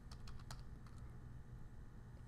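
Quick keystrokes on a computer keyboard during CAD work, a brief burst of light clicks at first then sparser taps, faint over a steady low room hum.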